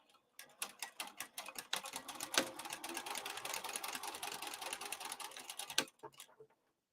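A sewing machine stitches a crossbody bag seam in one quick run of about five seconds, a fast, even rattling burst of needle strokes that starts and stops cleanly against near silence.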